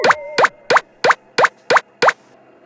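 Floppy disks are rinsed in water, with seven evenly spaced, loud, hollow plops in a steady rhythm, close and alone.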